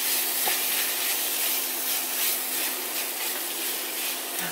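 Pork stir-frying with gochujang and chili powder in a pan gives off a steady broadband sizzle and hiss, constant and fairly close, with no talking.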